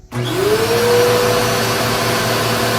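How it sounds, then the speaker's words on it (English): A Bissell 3534 vacuum cleaner switches on and its motor spins up with a rising whine, then settles into a steady, fairly loud drone that holds to the end. "By far one of the most quiet vacuum cleaners I've ever had."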